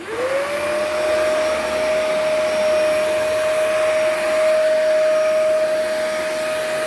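A commercial vacuum cleaner starts up on carpet, its motor rising quickly to a loud, steady high-pitched whine and rushing airflow that holds constant, close and alone.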